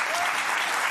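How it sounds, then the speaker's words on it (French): A studio audience on a French television talk show applauds, a steady, dense clatter of many hands filling the whole second at an even level. "Vous applaudissez."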